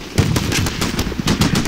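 Mark 19 automatic grenade launcher firing in the Combat Mission: Shock Force war game, a rapid series of loud, punchy thumps and bursts repeating throughout, with no talking.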